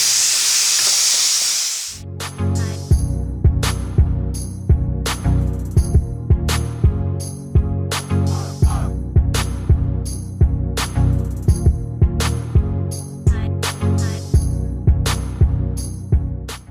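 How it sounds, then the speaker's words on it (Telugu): A pressure cooker with dal vents steam in a loud, hissing whistle that lasts about two seconds before cutting off, and a rhythmic, punchy backing follows. "పప్పు 5 విజిల్స్ వచ్చేసింది."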